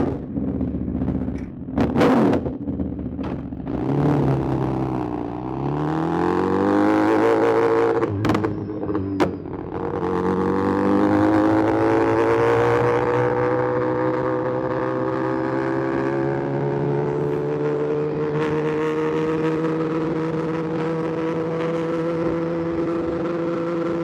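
A sport motorcycle with a slip-on exhaust revs hard with a loud, raspy note, then settles into a rising, sustained drone as it pulls away, close by.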